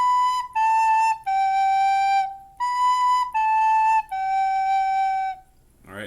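A recorder plays a simple beginner phrase of sustained, pure tones, a short descending three-note pattern repeated twice with brief gaps, clear and close with no talking.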